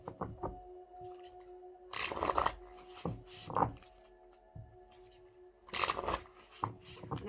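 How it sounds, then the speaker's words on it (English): A tarot deck is shuffled in several bursts, with papery riffles and scrapes that come and go in uneven clusters and quiet gaps between them, close to the listener and with no voices. "No, this is a big shuffle."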